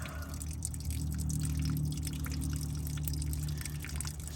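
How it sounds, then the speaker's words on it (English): Water draining out of a VAC vehicle while its fluids are being changed, a continuous splashing pour with a low engine-like hum beneath, steady and close throughout. "Still see water coming out."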